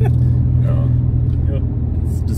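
Deep low rumble of an Audi engine accelerating under light throttle, heard from inside the car as a steady droning hum with faint road noise.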